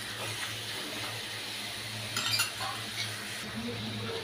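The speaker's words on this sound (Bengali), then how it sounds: "এবারে এটা আমি খুব ভালোভাবে এর সাথে নেড়ে চেড়ে মিশিয়ে দেব" Taro leaves being stirred and mixed with salt and green chilies in a bowl, with soft clinks of a utensil against the dish over a steady low hum, a brighter clatter near the middle.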